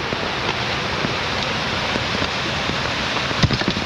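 Water rushes along an irrigation channel during the monsoon in Naringre, Devgad, as a loud, steady broadband wash with small splashes, close by and with no talk.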